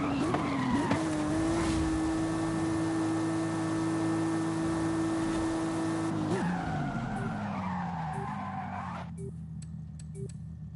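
A racing car in the Forza Horizon 5 video game screams at high revs under hard braking with a long tyre squeal and skid, then the engine note drops and fades to quieter gear whine near the end.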